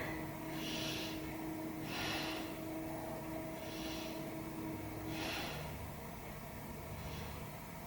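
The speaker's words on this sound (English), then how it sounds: "Take some big breaths into the back." Deep, slow breaths during a yoga forward bend with a rounded back, about five airy inhales and exhales at a steady rhythm, close and soft over a low background hum.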